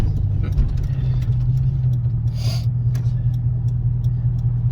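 A car engine with a newly returned ECU rumbles steadily from inside the cabin while accelerating, a low continuous drone with faint ticks and a brief hiss partway through.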